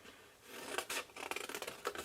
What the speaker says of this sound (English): I think my scissors are a bit sticky.